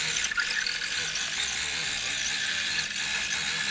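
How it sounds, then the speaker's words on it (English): A Grace Company Quilters Evolution longarm quilting machine on a 10-foot rolling frame stitches a straight line across a quilt, a steady, close mechanical whirr that runs without a break and then stops abruptly. "So I will just stitch a straight line all the way across."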